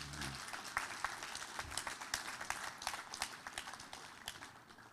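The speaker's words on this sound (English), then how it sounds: "I want another applause for this one." Faint, distant audience applause at an architecture exposition, a continuous patter of many hands clapping with no talk over it.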